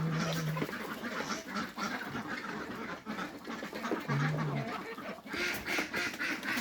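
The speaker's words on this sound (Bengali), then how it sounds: "হাঁসগুলোকে আজকে এখন খানা দেব।" Ducks quack at feeding time, a busy flock heard nearby with repeated honking calls over a noisy background, faint overall and without speech.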